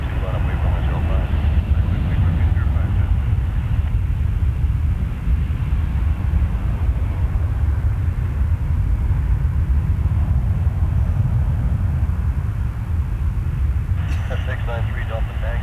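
A plane takes off from Toronto Pearson Airport: a steady, heavy low rumble that holds for the whole stretch, with air traffic radio chatter talking over it.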